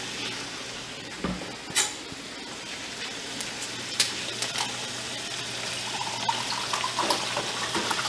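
Water is poured into a pot of Tamil Nadu style chicken curry, a soft, faint trickle with a few small clinks and splashes, no voices.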